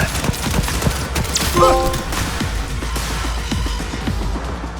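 Ranged weapon fire in Cyberpunk 2077 rattles in rapid, repeated close shots, a dense burst of gunfire with a short electronic chirp partway through.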